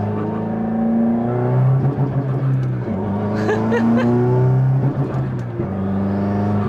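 A Subaru WRX on a restricted valet engine map accelerates with a steady droning engine note that climbs slowly and evenly in pitch, its pitch dipping briefly mid-pull like a gear change, heard from inside the car.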